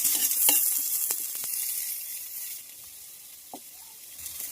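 Tomatoes sautéing in a pan for ginisang sayote, a steady close sizzle with a few sharp spatula stirs and scrapes near the start, gradually settling into a softer hiss.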